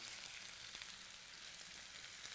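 Chicken fries in a pan with a close, steady sizzle and scattered small pops. It runs continuously with no talk.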